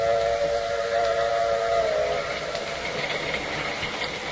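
A steam train whistle from a 1944 radio drama sounds a loud sustained tone, then fades into a continuous hiss of steam and rumbling rail noise, with no voices.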